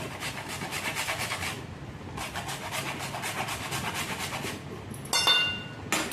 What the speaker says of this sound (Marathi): हे जायफळ त्याच्यामध्ये मी किसून घेणार आहे